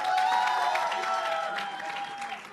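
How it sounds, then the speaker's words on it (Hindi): Studio audience at a televised TMC versus BJP political debate applauding the debate teams, a dense continuous wash of clapping that holds steady and loud throughout with no voices on top. "मुझे यहाँ खड़े होकर ज्यादा जोर से बजाना पड़ रहा है सबके लिए तालियां"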